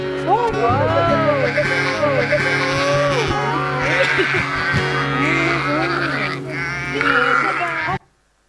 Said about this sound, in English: The sheep knows the shepherd's voice.